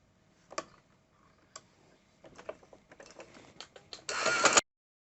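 A sewing machine ticks through a few slow, hesitant stitches on salwar cloth, then breaks into a short fast burst of stitching before stopping; close and fairly quiet, with no talking.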